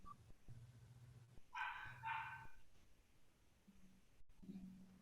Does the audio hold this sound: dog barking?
yes